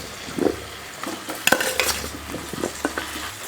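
Boiled potatoes are stirred in hot oil with chilli and coriander powder in a pan, giving a low sizzle under scraping spoon strokes and a few sharp metal knocks against the pan.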